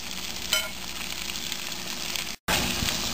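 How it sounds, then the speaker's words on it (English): Chicken kofta curry masala fries in a pan with a steady, close sizzle and the scrape of stirring throughout, cutting out briefly near the end before resuming. "Now again stir it, and I will fry it for about 1 minute"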